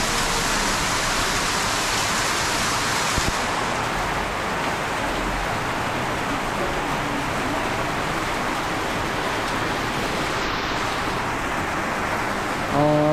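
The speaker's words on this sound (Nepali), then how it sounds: "हाम्रो सुनादामा चाहिँ अहिले पानी झरी अन्त असिना परिरहेको छ।" Heavy rain mixed with hail pours down outdoors on a hillside road in Darjeeling, a dense continuous hiss of drops striking surfaces at an even, loud level throughout, with no voices.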